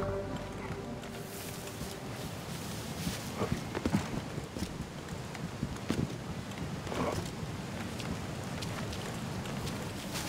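Horse hooves clip-clopping across desert ground in Assassin's Creed Origins, a steady, fairly close gallop under whooshing wind and game ambience, with no talking.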